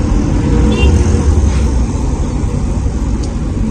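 Car on a beginner driving lesson rolling slowly with clutch and brake control, a steady close engine and road rumble under occasional background noise.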